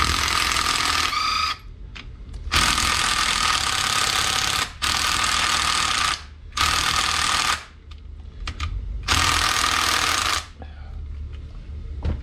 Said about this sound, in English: let's take these pump cover bolts out